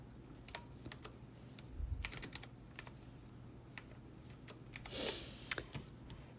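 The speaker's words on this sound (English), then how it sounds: "I'm going to type New York City" Typing on a computer keyboard, quiet scattered keystrokes in short irregular bursts, close and faint, with no voices.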